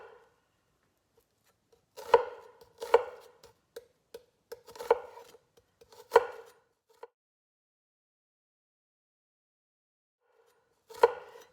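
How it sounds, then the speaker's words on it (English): A kitchen knife chops through an onion along its growth lines in a few crisp, close strokes on a cutting board, clustered in a quick burst and then one last lone chop after a pause. "I'm just cutting along those growth lines of the onion"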